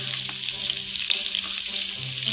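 A little water poured into chicken frying in a pan, giving a steady hiss and sizzle with faint crackles, close and fairly loud, with no talking.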